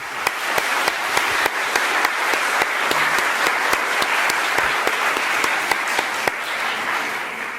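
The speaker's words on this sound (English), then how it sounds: "So one more last round of applause for our outstanding panelists." An audience applauds panelists at the close of a discussion event, a sustained, even wash of clapping with a few louder individual claps standing out near the front.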